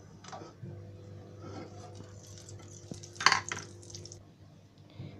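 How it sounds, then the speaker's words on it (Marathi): A spoonful of ghee goes into a pot on a gas flame, with soft spoon clinks, a few metallic taps and a brief louder clatter against the vessel over a quiet background. "आता त्याच्यामध्ये मी 1 चमचा तूप टाकते."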